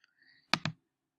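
Computer mouse clicked twice in quick succession, close and crisp, each click short and sharp in otherwise quiet surroundings.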